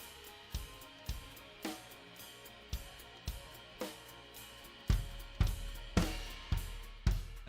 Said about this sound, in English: keep the time with an offbeat hi-hat on our left foot